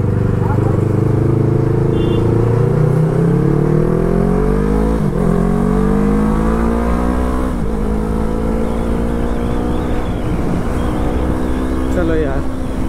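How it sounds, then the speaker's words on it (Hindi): A superbike engine warming up revs repeatedly over a constant loud drone, its pitch rising and falling in several long pulls while the bike is underway, with a voice speaking intermittently. "गाड़ी हीट कर रहा था, थोड़ा खींच लिया तो ठंडा हो जाएगा।"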